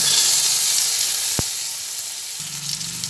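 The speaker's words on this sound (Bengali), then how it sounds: "শুকনো লঙ্কাটা ভাজা হচ্ছে" A dried red chili fries in hot oil, giving a continuous bright sizzle and hiss, with one sharp click partway through and a low rumble returning near the end.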